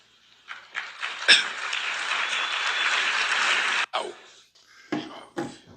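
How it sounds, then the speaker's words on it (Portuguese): Audience applause following a speech by Lula, a dense burst of clapping that swells and holds for a few seconds, then breaks off into scattered claps and brief cheers. "Nessa aí foram uns 15 segundos de aplauso."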